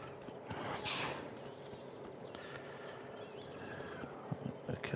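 A horse's hooves clip-clop in Kingdom Come Deliverance, a quiet, steady rhythm of hoofbeats joined by faint creaks of tack.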